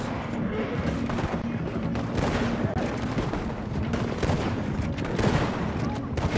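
Gunfire in the open-world western game Red Dead Redemption 2, a dense stretch of overlapping shots and booms from several guns with hoofbeat-like rumble beneath, fairly loud and continuous, with some voices mixed in.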